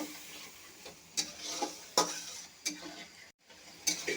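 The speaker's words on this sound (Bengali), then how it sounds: "এখন একটু জল দিয়ে দেব। মশলাটা আর একটু ভালো করে আমি কষিয়ে নেব।" A spice paste for a homestyle egg curry with small potatoes, loosened with a little water and fried while being stirred. Several sharp, spaced scrapes of a spatula cut through a soft, low sizzle close by.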